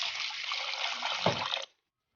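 Water pours steadily into a bowl to soak flattened rice, a continuous splashing stream for about a second and a half that stops abruptly, with no talk.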